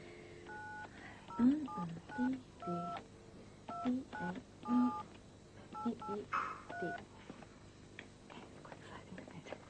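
A string of telephone keypad tones beeps out in short bursts, followed by quieter sounds on the line, with faint background voices.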